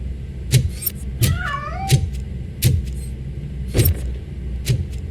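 A cat meows repeatedly in the video game RoboCop Rogue City, roughly six short, close meows spaced about a second apart over a low ambient hum.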